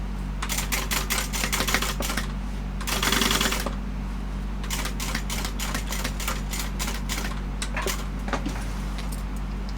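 A sewing machine stitches a bag seam in quick, rhythmic bursts of needle clatter over a steady motor hum, pausing briefly and then running a longer fast stretch before continuing.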